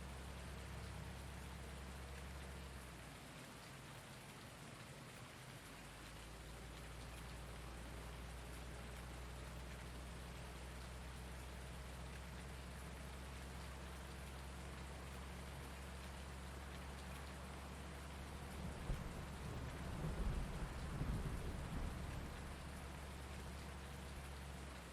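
Steady in-game rain pours down in Farming Simulator 19 on the Ravenport map, a constant broadband hiss with a low rumbling bed, swelling slightly near the end; no distinct thunder crack stands out.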